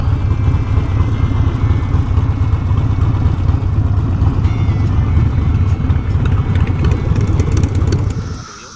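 Harley Sportster motorcycles pulling up on a Baltimore neighborhood street, a loud, steady, rumbling engine drone close by that eases off at the very end.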